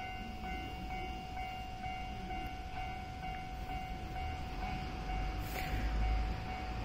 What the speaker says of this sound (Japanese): あのように上り列車がやってまいりました。